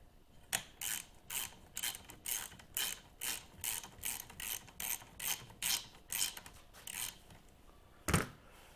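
Bolts on a 1948 Farmall Cub tractor are run up with a ratchet wrench, giving about fourteen rapid, evenly spaced bursts of clicking at close range, then a short pause and one louder final clack.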